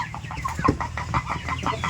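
Tiger chickens cluck on a chicken farm in a quick run of short, close, overlapping clucks with a low farmyard rumble underneath, and no voices.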